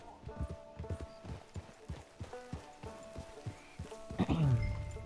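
A horse's hooves clip-clop at a steady walking pace in the video game Red Dead Redemption 2, close and clear, ending in a brief neigh or whinny.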